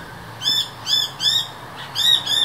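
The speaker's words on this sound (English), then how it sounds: "The channel-billed cuckoo is the largest parasitic cuckoo in the world." Channel-billed cuckoo calling outdoors, a series of five loud, harsh raspy screeches in an evenly spaced rhythm, each call a short burst with a gap between them, fairly close and alone against light background noise.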